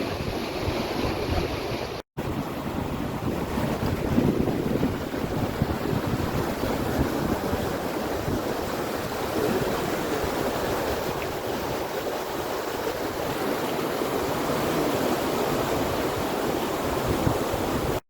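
A fast mountain river current on the Rupin Pass trek roars steadily and loudly throughout, a dense continuous rush of water close by with wind buffeting the microphone.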